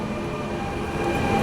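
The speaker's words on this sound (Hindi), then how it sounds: "और मेट्रो चल पड़ी।" Dubai Metro train pulling away from a station, a steady low rumble and hum of the moving carriages heard close and continuous, slowly growing louder, with no talk.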